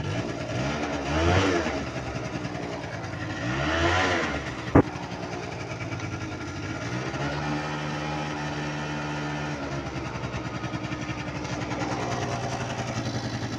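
A Honda moped engine idles close by and revs twice in quick swells, then settles into a steady, buzzing idle.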